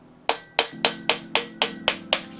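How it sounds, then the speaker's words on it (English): Seven sharp, evenly spaced hammer blows ring out close and loud in steady rhythm, knocking a handguard part loose on an AR-15 rifle, a Just Right Carbine, held in a vise. "I'm going to just hammer it loose"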